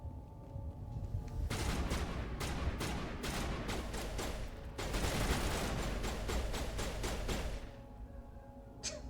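Enemy gunfire in Mass Effect: bursts of rapid shots crackle in two long volleys with a short gap between them, moderately loud against a low ambient hum, with a last isolated shot at the end.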